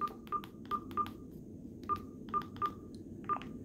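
Keypad tones from a Sonim XP3 flip phone as a number is typed in: eight short, clear beeps in an irregular rhythm over a low background hum.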